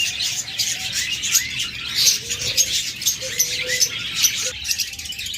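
Budgerigars and cockatiels gathered for sale chatter and chirp constantly, a dense, lively twittering of many birds close by, with occasional sharper calls rising out of the flock.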